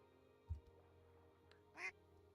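A Minecraft duck gives a single quack near the end, after a low thump earlier, against a quiet game backdrop.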